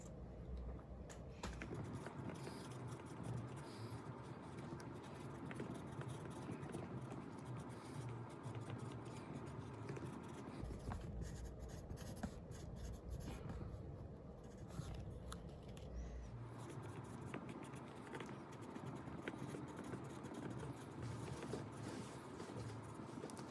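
Pencil scratching on paper during a free-writing exercise in a classroom writing lesson, a steady close scribbling texture with soft rustles running throughout, no talking.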